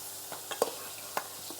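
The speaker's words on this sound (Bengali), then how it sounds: "মানে এক এক করে মাছগুলো দিয়ে দেবো।" Small puti fish, a Chinese variety, drop one by one into hot oil salted to stop sticking, giving a faint steady sizzle with soft taps and stirring sounds.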